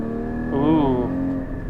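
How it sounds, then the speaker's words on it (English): A Porsche GT car engine gives a short rev, a rising and falling surge over a steady idle-like drone, heard from inside the car. "Engine sounds amazing."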